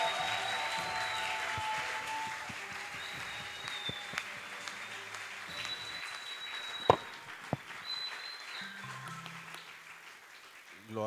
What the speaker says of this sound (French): Accueillons avec acclamation le pasteur Vicky Yomba.